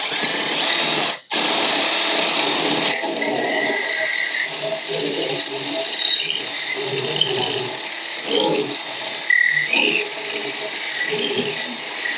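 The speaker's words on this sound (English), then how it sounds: "there's nothing worse, in my opinion, than drilling out a loose rivet" A power drill grinds out a loose rivet on the plate of a pressure washer pump, whining loudly and close at a steady pitch. It cuts out briefly near the start, then keeps running with faint voices in the background.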